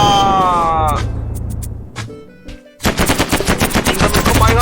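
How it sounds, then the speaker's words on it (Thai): Rapid gunfire bursts in a space war map of the block-building video game Mini World, loud and dense, with an electronic sweep before a pause, then continuous rattling fire while someone speaks briefly. "ยิงกันให้สนั่น นี่มันสงครามอวกาศ"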